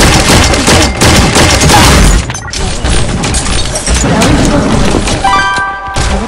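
Loud booming shotgun blasts ring out in a video game, with crashing, shattering impacts piling up in a dense, continuous barrage that eases slightly midway and ends with a brief bright tonal sting.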